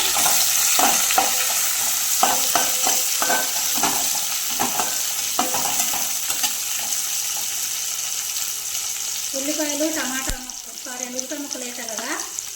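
Onions and spices fry in oil in a pan for a pulao-style gongura chicken, a steady broadband sizzle with stirring clatter throughout, while a voice speaks briefly near the end.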